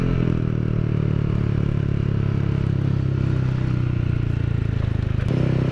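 A Yamaha Aerox 155 scooter fitted with a new local-brand aftermarket exhaust rides along with a steady, loud, buzzing engine drone, heard close and continuous with a slight dip in tone near the end.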